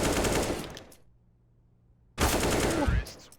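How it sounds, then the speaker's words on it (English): Rapid automatic gunfire in the video game Counter-Strike: Global Offensive bursts loudly at the start and again near the end, with a quiet gap between. "Headshots from Maxter"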